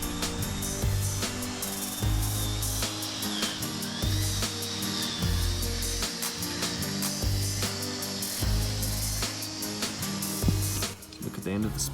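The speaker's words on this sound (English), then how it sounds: "It's like just a cable in a drill, and that little edge does quite a good job." A handheld drill spins a length of cable as a homemade scraping tool while working on a 1954 Chevy engine block, giving a repeated whirring, rattling grind in short bursts with pauses between.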